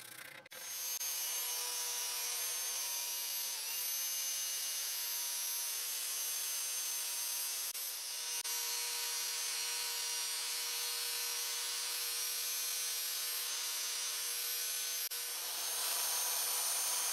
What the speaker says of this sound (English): The last sanding stage I will do with 600 grit sandpaper and I will do it manually.